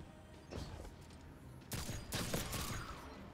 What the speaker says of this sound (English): Where'd those shots go?